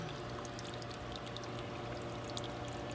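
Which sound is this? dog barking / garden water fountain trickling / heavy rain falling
garden water fountain trickling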